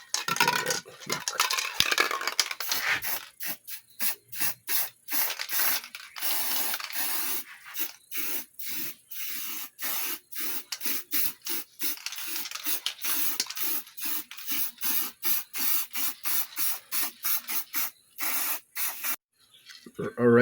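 Black spray paint goes onto paper for stencil printmaking, heard as a long series of short, sharp hissing bursts, some quick and clustered, others spaced apart, close and fairly loud.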